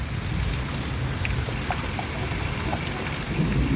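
Heavy rain falls in a dense, steady hiss that holds at an even, fairly loud level throughout.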